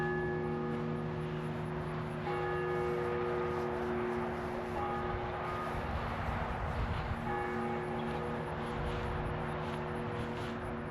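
Church bells ring near a cemetery, sustained tonal hums and strikes that swell and fade in overlapping waves, steady and moderately distant over a low outdoor rumble.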